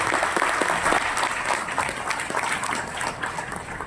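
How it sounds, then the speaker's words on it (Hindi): A crowd claps steadily and loudly for a few seconds, a dense, continuous wash of applause. "मैं चाहूंगा पहले तो इनके लिए जोरदार ताली होगा"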